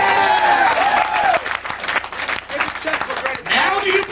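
Crowd at a Savatage fan convention in New Jersey clapping and cheering in bursts around the room, with voices talking and calling out through the applause.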